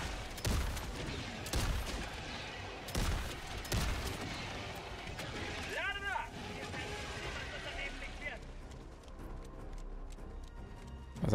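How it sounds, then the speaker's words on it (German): A shotgun in the video game Helldivers 2 that reloads one shell at a time, firing in several booming shots amid dense game noise and scattered explosions, with someone talking over parts of it. "also eine Schrotflinte, die jeden einzelnen Schuss nachlädt"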